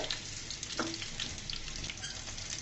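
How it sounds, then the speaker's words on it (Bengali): Steady crackling sizzle of green and dried chillies frying together in hot oil, close and continuous, with a faint stir partway through. "আমার কাঁচামরিচ আর শুকনা মরিচ একসাথে ভাজা হয়ে গিয়েছে"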